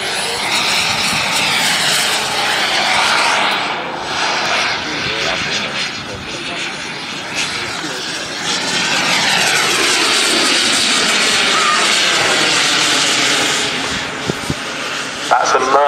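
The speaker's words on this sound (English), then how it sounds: "That's a Merlin 160 jet engine, keeping it moving along." A Merlin 160 jet turbine on a model glider roars steadily overhead, loud and sustained with a shifting whine as it passes, while people talk beneath the engine noise.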